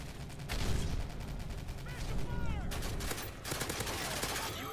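Rapid P90 submachine gun fire in Call of Duty: Modern Warfare 3 multiplayer, dense bursts running nearly nonstop with other game sounds layered in.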